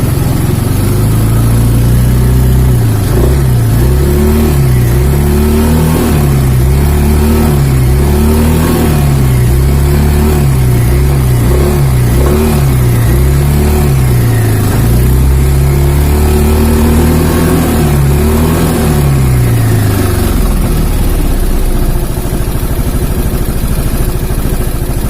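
An Italian 250cc automatic scooter engine runs close by and is revved repeatedly, the pitch rising and falling in a series of throttle blips before settling back to idle, loud and continuous.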